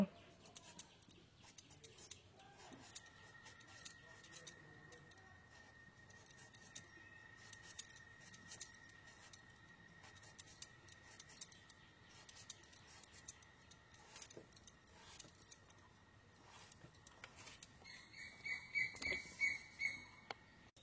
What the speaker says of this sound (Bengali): একইভাবে বাকি কুমড়োটুকু কেটে নেব